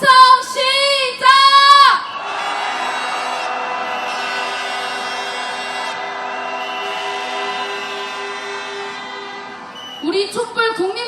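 A crowd at a street protest march raises a sustained roar of cheering after a loud amplified chant, the shouting holding for several seconds before more chanting resumes.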